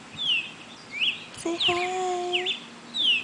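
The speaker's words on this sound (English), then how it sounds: "Is that the birdies?" Small birds chirp and tweet in a park, a few short, high calls close by, while a person speaks briefly.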